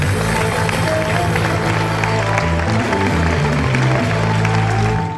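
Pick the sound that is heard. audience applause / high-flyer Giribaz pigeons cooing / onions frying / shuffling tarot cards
audience applause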